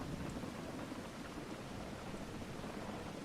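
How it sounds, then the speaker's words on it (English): Rain and rolling thunder from a storm in the video game Farming Simulator 25 make a faint, continuous wash of falling drops over low rumbling, heard alone without voices. "I'm going to have to go out in the rain."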